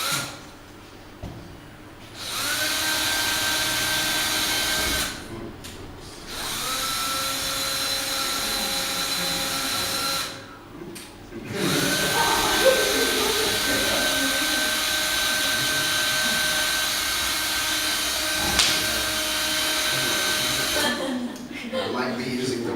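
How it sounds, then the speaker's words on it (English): An electric drill used on a garment whines steadily in several long runs, stopping briefly between bursts, close and fairly loud, with voices now and then. "I might be using the wrong drill."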